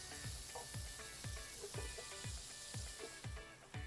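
Scallops sear in a pan of butter, giving a faint, steady sizzle and hiss with a soft, regular rhythmic thumping underneath, heard close by and at low volume.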